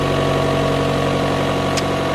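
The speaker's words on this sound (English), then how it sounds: "A little generator engine running away." Small gasoline generator engine of a 2013 Chevrolet Volt with 142,000 miles, running steadily at idle with a constant, even drone and no variation across the clip, close and fairly loud.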